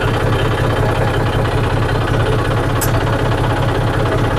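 John Deere 5038D tractor with an old-style bonnet idles steadily without throttle, a close, loud, even diesel chug with a rhythmic low knock running throughout.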